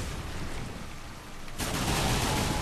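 Dense, loud gunfire in the game Darksiders 2 roars as a continuous noisy barrage, swelling sharply halfway through into an even heavier volley.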